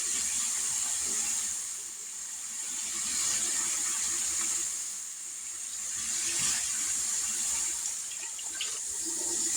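Hot water poured steadily from a container for a boxed Salisbury skillet dinner, a continuous hissing splash that holds fairly loud throughout with a slight dip in the middle, no talking.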